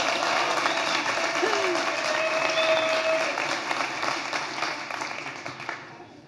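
Sustained audience applause at a 2016 State of the City address, loud and steady for several seconds before tapering off, with a few faint whoops over the clapping.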